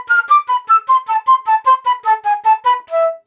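Flute playing a string of poorly articulated notes, about a dozen tongued attacks that sound heavier and less clean, closing on a sustained lower note, close and solo with no talking.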